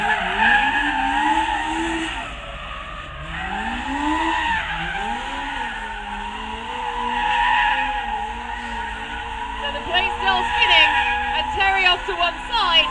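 A stunt car spinning at a Silverstone stunt show, its tyres squealing in long wavering tones over steady engine noise, with a commentator talking throughout.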